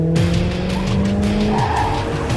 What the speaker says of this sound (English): they don't even hear Laney's van driving up to take them out